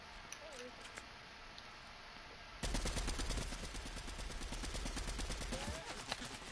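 Shooter video game gunfire: near-silence first, then sudden rapid bursts of automatic fire that run loud and continuous to the end.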